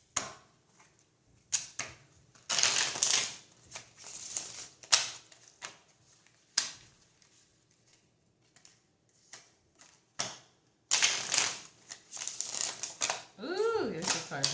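Cards pulled from a deck during a reading, heard as scattered quick snaps, shuffles and flicks in bursts with quiet gaps, close and fairly faint, with brief talk near the end.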